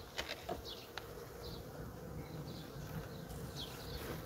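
Honeybees from a medium-sized colony hum in their hive in spring, a faint continuous buzz with a few brief sharper wing whines and soft clicks.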